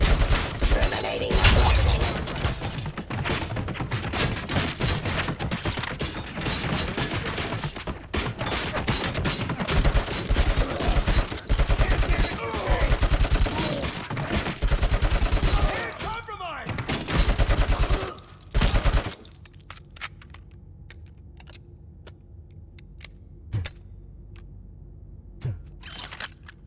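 Gunfire rips through a firefight in RoboCop: Rogue City, dense rapid bursts and sustained volleys hammering almost continuously for about eighteen seconds before dropping away to a quiet, sparse tail with a few scattered shots.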